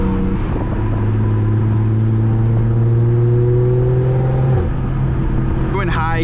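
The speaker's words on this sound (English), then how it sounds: "Oh, that turbo sound, I'll never get over that." BMW 340i turbocharged engine pulling in a high gear at low RPM on a winter drive, a steady rising drone with a whirring tone heard from inside the car, ending in a short shift.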